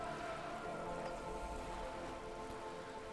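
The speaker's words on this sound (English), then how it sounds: "The rain is freezing." Steady rain hisses and patters across a wet surface in the game Disco Elysium, a dense, even wash of droplets with no voices over it.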